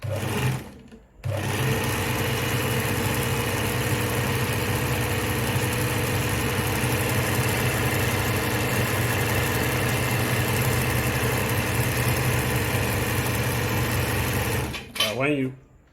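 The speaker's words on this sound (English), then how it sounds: "place that on the bobbin winder, and you just push that in. Alright, so let me just wind that again." A Veritas zigzag model 8014/29 sewing machine winds a bobbin with a steady, close whirring motor hum that starts after a short pause and runs evenly for about fourteen seconds before winding down, with a voice speaking briefly at the start and end.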